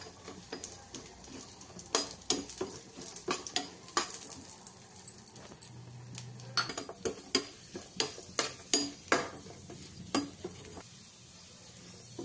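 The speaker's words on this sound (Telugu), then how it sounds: "నెయ్యి వేసుకున్న తర్వాత జీడిపప్పు, బాదం పప్పు, ద్రాక్ష వేసుకొని ఫ్రై చేసుకోవాలి." Cashews, almonds and raisins fry in ghee in a small pan, with a soft sizzle under repeated sharp clinks and scrapes of a spoon stirring against metal, irregular and close, without talk.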